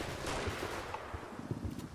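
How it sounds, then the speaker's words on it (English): Gunfire in the Combat Mission: Battle for Normandy war game during a bocage mission, with scattered muffled shots and bursts at a distance, quiet under a low rumbling background. "So you should be enjoying all that wonderful gunfire"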